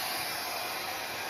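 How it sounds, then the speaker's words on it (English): A Shark hair dryer fitted with a diffuser, set to medium heat and medium speed, gives a steady, close, unbroken whoosh of blowing air with no voices. "And then I'm going to diffuse. I love the Shark hair dryer. I put it on medium heat,"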